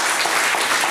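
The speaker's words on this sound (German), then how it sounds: "Das ist schon der dritte Applaus" Audience applause at an evening talk marking ten years of post-growth economics, a brief, steady wash of many hands clapping, fairly loud and continuous with no voices over it.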